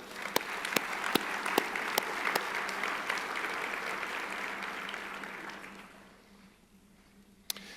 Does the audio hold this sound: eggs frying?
no